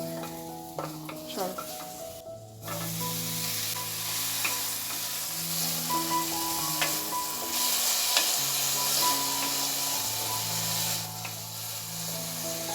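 Chopped garlic sizzling and frying in a hot pan, a steady close crackle with occasional stirring scrapes throughout, and no talking.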